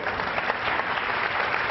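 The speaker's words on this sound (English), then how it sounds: "a round of applause for Catchfree" A round of applause at a startup pitch competition, many hands clapping in a dense, even burst that holds steady and fairly close throughout, with no voices over it.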